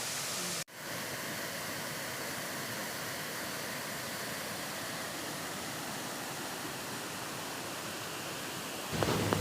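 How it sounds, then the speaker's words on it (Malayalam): The Olliyurukku forest waterfall, known as Kollam Kuttalam, pours into its pool with a loud, unbroken rushing roar heard up close, steady from start to finish with no talk. "ആ ഒരു വെള്ളം ഈ ഒരു വെള്ളച്ചാട്ടത്തിൻ്റെ ആ ഒരു കുഴിയിലേക്ക് താണ്ടു പോവുകയാണ്"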